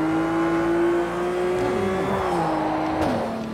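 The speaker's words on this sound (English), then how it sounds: "Now I'm just going to start drifting." A small car engine in a racing video game revs steadily at a high pitch while drifting, its tone wavering and then dropping near the end, loud and close with no talking.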